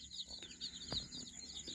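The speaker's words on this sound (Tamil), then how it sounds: "இதில் வந்து கழுத்தறுத்தான் கோழி ஒன்று வந்திருக்கு நம்ம இதில்" A Siruvidai naked-neck chicken on a farm clucks softly. A few short, faint clucks are spread over a couple of seconds against quiet background noise.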